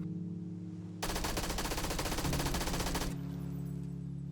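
An MP5K 9mm submachine gun in the video game PUBG fires one sustained rapid burst of about two seconds, dense and evenly spaced, standing out over a quiet game background.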